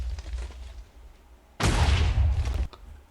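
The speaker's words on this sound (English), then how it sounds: "we can quite easily just, pick them off one by one with our incredible laser gun" A laser gun in Minecraft fires at zombies, a loud burst of crackling energy that holds for about a second over a low game rumble, then cuts off abruptly.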